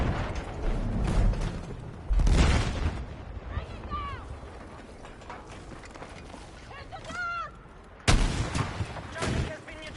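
Rocket launched at a soldier in Battlefield 6, with heavy booming blasts near the start and again near the end amid battlefield mechanical noise, under bursts of speech.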